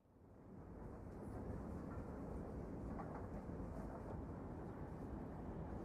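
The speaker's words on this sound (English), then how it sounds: "On the train." Steady train ride ambience from a video game: a continuous low rumble of rail travel that fades in and holds at a constant, fairly quiet level, with no voices.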